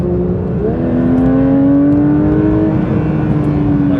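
A Porsche 911 GT3 engine accelerates into a corner, its close, loud, steady drone climbing smoothly in pitch for a few seconds before leveling off.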